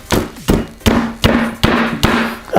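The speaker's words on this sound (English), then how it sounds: "take your hammer and just hit it till it breaks" Six sharp hammer blows smash a lollipop on a hard surface at a steady pace, each a hard crack followed by a brief ringing rattle.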